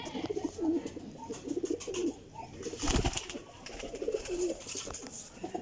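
Teddy golden flying pigeons coo in a soft, repeated rhythm close by, with a brief louder rustle or flutter midway through.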